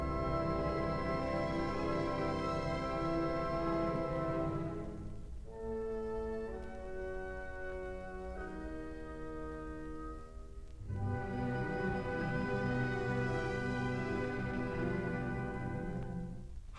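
Orchestral passage from the recapitulation of Brahms's Symphony No. 4, the opening theme stretched out in augmentation. Full, sustained strings and winds swell and thin out in long held chords, with no talking over them.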